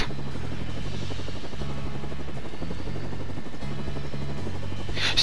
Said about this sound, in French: Je sais pas si l'hélico peut s'exploser en fait.